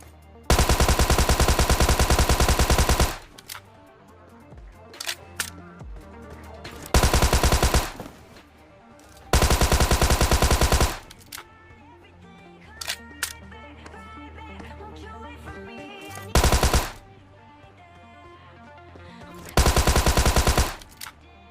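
Tommy gun bursts in the PUBG video game, several loud sustained automatic volleys of two to three seconds each, separated by quieter stretches of scattered shots and game sounds.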